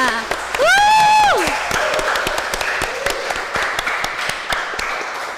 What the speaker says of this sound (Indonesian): Ya beri aplaus yuk buat ini teman-teman, yuk aplausnya.